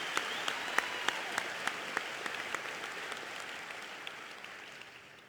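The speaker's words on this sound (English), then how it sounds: "can we give them another round of applause?" A large university welcome-day audience gives performers a round of applause, a broad wash of clapping that starts full, carries a few sharper individual claps near the front, and slowly fades toward the end.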